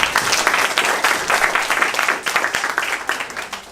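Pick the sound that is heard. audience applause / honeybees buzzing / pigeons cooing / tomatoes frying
audience applause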